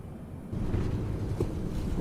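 Boeing 747-8 engines idling in a flight simulator, a steady low broadband rumble and roar that swells slightly after the first half-second and holds even throughout.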